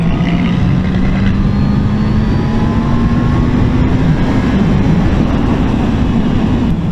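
A 2022 Honda CB650R inline-four motorcycle pulls hard on a test ride, its engine note rising smoothly and steadily over loud wind rush, close and continuous throughout.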